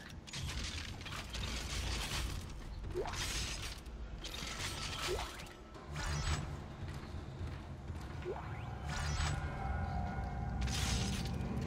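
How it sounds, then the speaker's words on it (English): Weapons being reloaded in the sci-fi horror video game Dead Space: several mechanical clicks and ratcheting clacks, each with a short rising whine, over a steady loud game soundscape of low hum and ambient noise. "let's reload all my guns"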